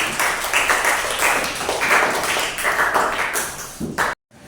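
Classmates applaud a student presenter with steady, uneven clapping that carries for about four seconds, then cuts off abruptly.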